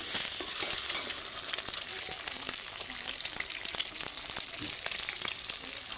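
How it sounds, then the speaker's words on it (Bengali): Two eggs hitting hot mustard oil in a wok give a continuous crackling sizzle with scattered sharp pops, fairly quiet and close, with no talk over it. "অল্প কিন্তু সরিষা তেল দেওয়ার পরে আমি 2টা ডিম দিয়ে দিচ্ছি"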